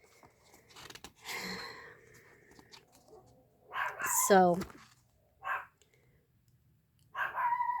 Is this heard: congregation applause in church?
no